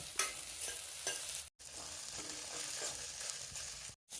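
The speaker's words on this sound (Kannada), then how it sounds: "ಎಣ್ಣೆ ಸ್ವಲ್ಪ ಹಾಕಿ ಚಂದಂಗೆ ಹುರಿದ್ರೆ ಲಾಳಿ ಲಾಳಿ ಅದು ಆಗಂಗಿಲ್ಲ" Okra fries in a little oil in a pan, giving a continuous soft sizzle with light stirring scrapes, broken twice by brief silent gaps.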